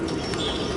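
Pigeons cooing in a pigeon loft: a brief, soft, low coo, close and clear, over a faint background hiss.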